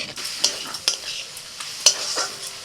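A spoon stirs tomato and fish masala frying in a pan, sharp scrapes at uneven intervals over a soft, steady sizzle, close and clear with no voices.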